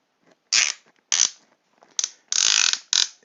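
A plastic toy elevator mechanism in a TMNT Secret Sewer Lair playset gives five loud, close bursts of ratcheting clicks separated by brief silences.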